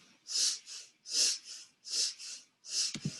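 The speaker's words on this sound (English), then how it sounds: "Inhale, exhale, out the nose." A person breathes slowly in and out through the nose in a calm morning meditation, four soft, airy breaths in an even rhythm, close and quiet, with a faint thump at the end.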